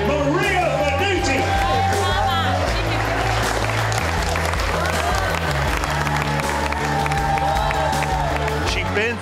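Crowd gathered to celebrate breaking into loud applause and cheering, a sustained wall of clapping and shouts mixed with festive music, while a voice talks over it.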